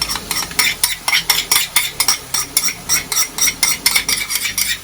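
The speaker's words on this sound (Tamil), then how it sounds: "நல்லா வதக்கணும். சரி, அப்படியே விடக்கூடாது, வதக்கிட்டே இருக்கணும்." Spoon stirring and scraping green chillies and ginger garlic paste as they sauté in a pan, with quick repeated metal strokes over a light sizzle, loud and close, alone with no talk.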